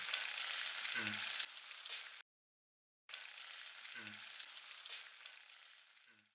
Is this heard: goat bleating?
no